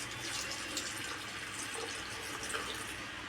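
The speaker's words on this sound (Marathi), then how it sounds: "आपण इथे आता गरम पाणी ॲड करत आहोत" Hot water pours steadily over washed cashew pieces in a kitchen, a continuous hissing, splashing stream that stays even and fairly quiet throughout, with no talking.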